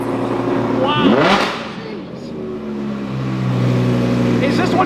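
A 2020 Toyota Supra fitted with a B.Rogue Built exhaust revs loudly up close, the engine rising and falling in sharp sweeps while people talk excitedly over it.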